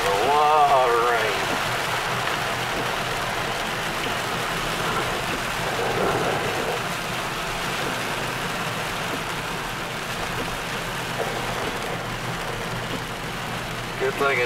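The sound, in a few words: heavy rain pouring on vehicle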